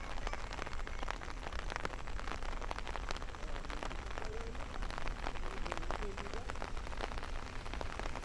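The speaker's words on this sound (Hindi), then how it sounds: "वैसे अभी बारिश हो रही है" Steady night rain patters densely and continuously on surfaces at a garden near the Statue of Unity in Gujarat, a constant wash of drops at moderate volume.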